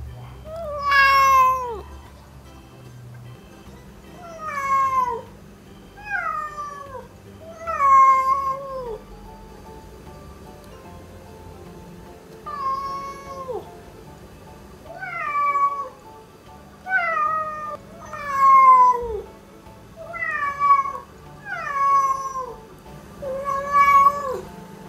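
Wonka the cat screams for food in a long string of loud, close, drawn-out yowling meows, about a dozen cries spaced a second or two apart over a quiet room background.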